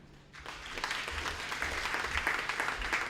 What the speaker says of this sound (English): Round of applause for the first speaker of Kokopo Secondary